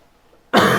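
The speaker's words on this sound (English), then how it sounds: "Excuse me, guys. Cough is unending." After a moment of near silence, a single loud, close cough bursts out harshly.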